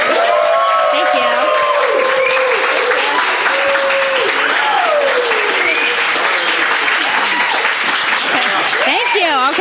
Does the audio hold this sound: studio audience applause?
yes